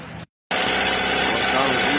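Chevrolet Lacetti 1.8 engine running at a steady idle up close in the engine bay near the belt and pump. After a brief dropout, a loud, even hum and whir carries on without a break.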